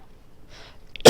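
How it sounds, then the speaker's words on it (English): A single sharp cough bursts out near the end after a quiet stretch, close to the microphone and loud against near silence. "sorry, I didn't mean to cough there."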